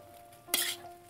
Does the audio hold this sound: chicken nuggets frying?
yes